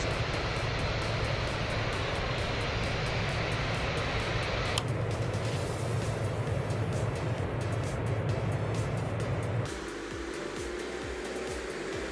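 A simulated airliner engine in the Real Flight Simulator video game roars steadily at takeoff power, a loud continuous jet whine and rush that shifts in tone partway through and settles slightly quieter toward the end, with no talk.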